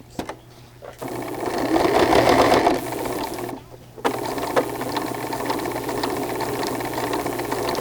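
A domestic sewing machine runs in bursts as it tacks fabric flat: a steady mechanical whir for roughly two seconds, a brief pause, then a longer continuous run. The stitching chatter is close and clear, with no talk.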